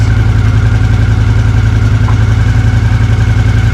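A Honda CX500 motorcycle engine, started after sitting unused for a week or two, idles close by with a steady, even, low throbbing hum.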